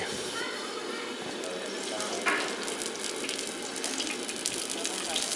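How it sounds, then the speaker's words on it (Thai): A fried egg sizzles in hot oil at a street food spot in Vietnam. A steady, close, bright hiss runs throughout, with a faint murmur of voices in the background. "เขาก็จะทอดไข่ดาวให้"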